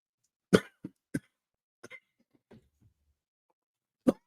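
Several sharp coughs: a loud burst, two quick follow-ups, scattered softer throaty sounds, then one more strong cough near the end, with no talking.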